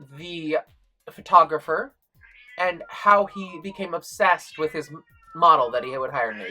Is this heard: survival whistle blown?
no